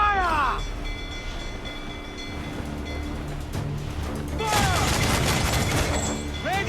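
Ship cannons firing a broadside in Assassin's Creed IV: Black Flag, rolling heavy booms and rumbling blasts amid creaking and battle noise, with shouted voices in the mix.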